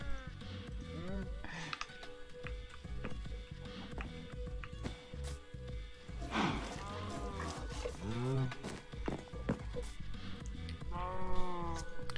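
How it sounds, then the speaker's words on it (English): Minecraft cows lowing as they are milked, with animal calls rising in short bleating bursts against a busy, steady game soundscape and what sounds like footsteps. "Right, I haven't milked the cows yet."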